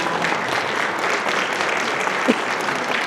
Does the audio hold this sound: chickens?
no